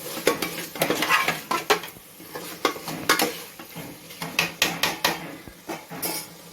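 A spoon scrapes and clatters rhythmically against a metal pot as Ambur dum biryani is stirred under a lid, with loud, repeated strokes and soft sizzling beneath.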